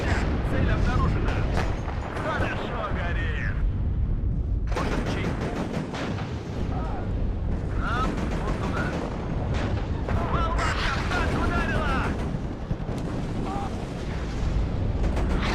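Continuous booms and rumbling blasts of artillery fire in the WARNO battlefield game run dense and loud throughout, with someone speaking over them.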